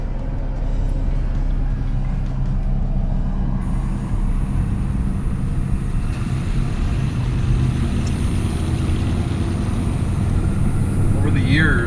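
A 1987 GMC Suburban V2500 Sierra Classic 4x4 drives along, its engine and road noise forming a steady, loud, continuous rumble heard from inside the vehicle.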